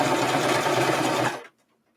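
Sewing machine stitching a makeup bag with interfacing, a steady close whirring run that continues for over a second before stopping abruptly into silence.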